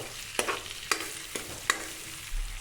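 Butter frying in a pan while being stirred: a soft, quiet sizzle under four distinct scraping strokes of a utensil, spaced roughly half a second apart, with no talking.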